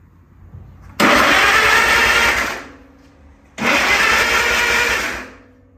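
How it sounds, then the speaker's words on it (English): The engine of an antique 1945 Farmall tractor cranks over twice, each attempt a loud sustained churning roar lasting a couple of seconds before fading, with a short pause between tries. "Let's try and start it up."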